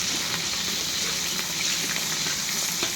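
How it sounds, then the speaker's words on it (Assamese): Onions and chillies fry in a hot pan in a home kitchen, a steady, dense sizzle with faint stirring scrapes, close and continuous. "জলকীয়া ভাজি আছোঁ মই।"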